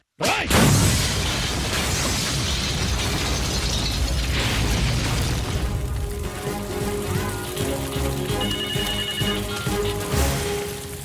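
A sudden loud bomb blast bursts in, followed by a sustained roar and rumbling debris, with faint mechanical tones emerging later.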